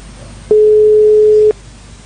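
A single steady telephone tone sounds for about one second while calling a hotel switchboard, loud and clean against a faint line hiss.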